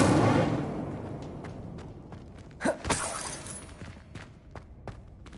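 An Incendio fire spell cast in Hogwarts Legacy erupts as a short whooshing, crackling burst midway through, following a fading low rumble. A few faint ticks trail off afterward.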